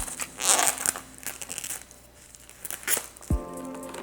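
Plastic wrapping is peeled off a frozen pizza in a few quick, close, crinkling, rustling bursts, followed by a short electronic microwave tone at the end.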